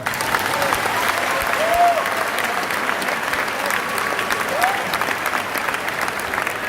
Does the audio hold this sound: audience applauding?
yes